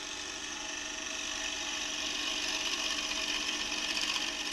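Wood lathe gouge cutting the foot of a turned bowl, a steady broadband hiss and rasp of tool on spinning wood that holds close and loud throughout without talk.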